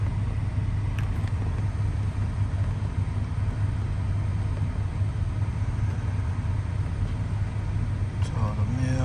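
A truck engine idles at close range, a steady low rumble that holds through the whole stretch with no change in pitch.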